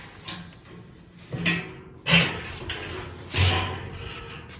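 Hinged steel doors on a 150-gallon smoker being swung open and shut, a few sharp metallic thumps and clanks spaced about a second apart, fairly close in a faintly noisy setting.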